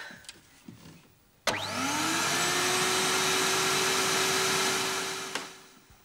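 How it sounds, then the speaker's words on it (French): A household vacuum cleaner switches on with a sharp click, its motor whining up to a steady loud drone that holds for several seconds before cutting off, with no talk. "il faut que je passe l'aspirateur"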